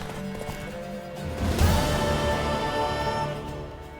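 Horse hooves galloping in The Witcher 3 video game during a horse race, a steady rhythmic clip-clop of a mare under game music, building in intensity midway and holding steady.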